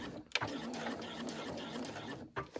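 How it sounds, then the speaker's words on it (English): Sewing machine with a narrow foot stitching an appliqué onto a bag: a close, steady mechanical whir with brief pauses and a short backstitch burst near the end. "Switch over to a narrow foot and sew down there again, getting nice and close to the base, back stitching well"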